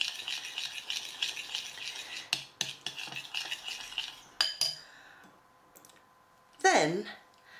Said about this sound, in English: just remove the bowl from the pan so that it's no longer over any heat, and stir it quite vigorously.